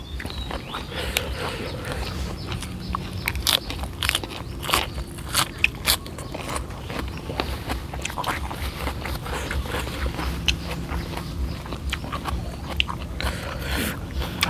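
Crunchy cassava leaves are bitten and chewed close to the mic, giving repeated crisp crunches and crackles at an irregular pace, with faint background voices.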